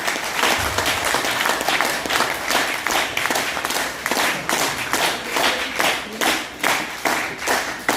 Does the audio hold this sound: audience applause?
yes